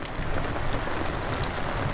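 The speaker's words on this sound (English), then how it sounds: "I hear thunder" A rainstorm at sea while fishing for mutton snapper, a dense, steady hiss of rain with a low, continuous rumble beneath it, close and uniform throughout with no voices.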